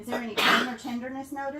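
A single abrupt sneeze bursts out during a seated abdominal examination, loud and close, between stretches of calm clinical talk.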